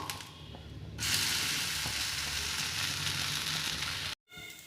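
Rava dosa cooking in oil on a hot pan gives a loud, steady sizzle and crackle that swells after a second and holds, with a brief clatter near the end before a short drop to silence.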